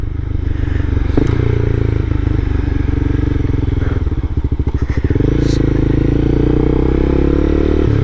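A Honda CBR300R motorcycle engine running steadily as it rides on a rainy night, loud and close, with the pitch shifting as it slows and then picks up speed.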